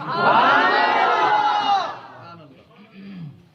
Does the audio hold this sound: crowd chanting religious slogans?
yes